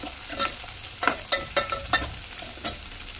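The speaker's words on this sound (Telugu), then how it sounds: "పచ్చిమిర్చి, కరివేపాకు వేసి అన్నీ బాగా దూరగా ఫ్రై చేసుకోవాలి." Green chillies and curry leaves fried in a pan for semiya upma, a close crackling sizzle broken by sharp, irregular scrapes and taps of a stirring spoon, about a handful of distinct strokes, with no talking.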